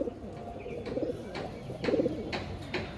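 Kalshila pigeons, a pair of good flying birds, coo in soft low bursts, with a louder throaty coo near the middle and quieter ones around it.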